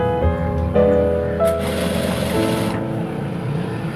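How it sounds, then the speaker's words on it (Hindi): An electric sewing machine runs steadily while stitching a thick hem on the back side of a shirt, giving a close, continuous humming whine whose pitch shifts slightly as the speed changes. "यहाँ पर हम मोटी सिलाई लगा देंगे"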